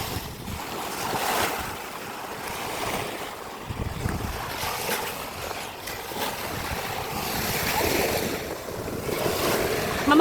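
Sea waves on a hot day at the beach: a steady, broad wash of surf that swells and recedes, mixed with wind buffeting the microphone, with no talking.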